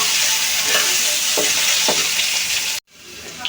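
Potatoes fry in hot oil with a loud, dense sizzle and a few stirring scrapes, close by, cutting off abruptly near the end before faint sizzling returns.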